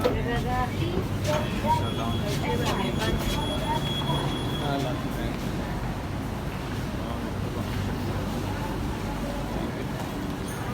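Steady rumbling of a crowded metro train in motion, a constant low roar with a faint whine and some murmured voices under it.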